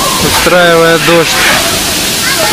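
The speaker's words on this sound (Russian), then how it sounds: "потом сверху чаша тоже наполняется водой и вытекает" A park fountain in Korea with water filling an upper bowl and spilling over makes a steady, close rushing splash. A voice speaks briefly over the continuous flow.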